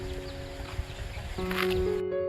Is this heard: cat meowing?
no